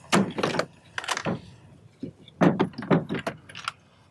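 A jobsite tool organizer box being opened, with a series of close plastic clicks, latch snaps and rattling parts in uneven bursts, fairly loud and with no talk over it.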